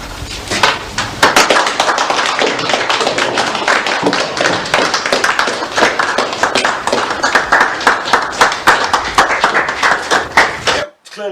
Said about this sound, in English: The crowd in the pub all applaud, just as you would expect.